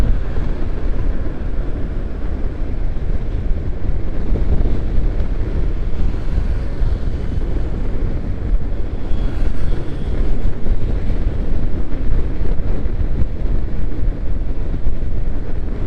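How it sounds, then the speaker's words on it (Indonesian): Heavy wind buffets the microphone in a constant low roar, loud and unbroken, from rushing air while riding a motorcycle at speed on an open road along Indonesia's Pantura route. "anginnya kenceng di sini"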